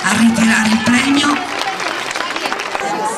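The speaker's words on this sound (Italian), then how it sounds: "Un applauso per i bambini e per le classi o per le sezioni che vengono a ritirare il premio." Audience applause for schoolchildren collecting a prize at a school awards ceremony, steady clapping and crowd noise running throughout at close range, with a voice heard near the start.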